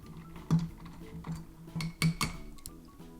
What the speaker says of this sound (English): gonna give it a quick stir.